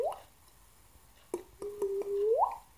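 A mouth imitates an extended water drop, with a brief pitched bloop at the start, then a sharp click followed by a sustained wavering tone that rises sharply at the end, close and alone.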